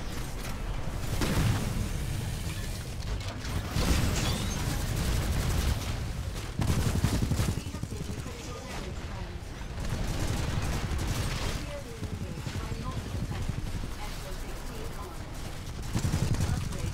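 Rocket fire from the Monarch titan in Titanfall 2 rolls on in dense, loud bursts of blasts and explosions across the whole stretch, with a player talking over the din.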